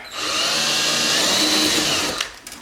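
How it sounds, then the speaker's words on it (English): A power drill driving a screw into a side skirt on a C8 Corvette whines steadily at close range for about two seconds, then winds down with a few faint clicks at the end. "we got our drill, and we're gonna go ahead and we'll screw it in about right here"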